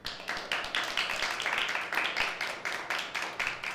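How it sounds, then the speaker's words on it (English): A small group claps in steady, brisk applause at fairly low level, with even rhythmic hand claps and no talk over it. "Everyone, big round of applause."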